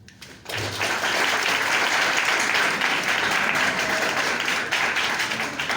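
A concert audience at a competition final bursts into loud, sustained applause that rises quickly and holds steady as dense, many-handed clapping filling the room.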